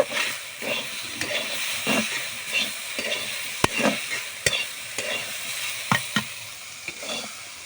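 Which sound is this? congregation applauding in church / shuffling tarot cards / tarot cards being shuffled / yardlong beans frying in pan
yardlong beans frying in pan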